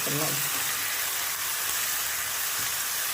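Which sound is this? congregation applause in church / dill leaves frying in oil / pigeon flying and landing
dill leaves frying in oil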